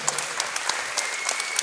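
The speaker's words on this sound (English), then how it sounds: "please have a massive round of applause for both boxers" A crowd at a boxing match applauds both boxers while awaiting the judges' decision, with steady clapping from many hands close by and no voices standing out.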